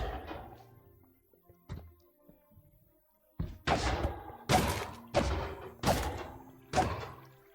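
Blows landing on an iron golem in Minecraft: after sparse scattered clicks, a rapid series of six loud, evenly spaced thuds close up, each a heavy knock with a short decay.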